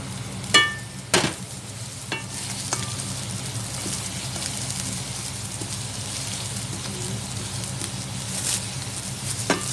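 Cooking oil crackles softly in a pan, a continuous low sizzle broken early on by a few sharp clinks of a utensil against the pan.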